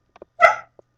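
A single short dog vocalization, a sharp yelping bark, rings out close and clear, with a few faint clicks around it.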